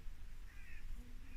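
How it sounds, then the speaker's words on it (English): A crow caws faintly in the distance outdoors at night, a short hoarse call or two rising over steady low wind rumble. "That's a crow there."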